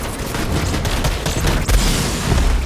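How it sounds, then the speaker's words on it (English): Rapid automatic gunfire from a sentry turret in the video game Borderlands 3, a dense continuous fusillade of shots that stays loud and steady throughout. "There is a sentry turret."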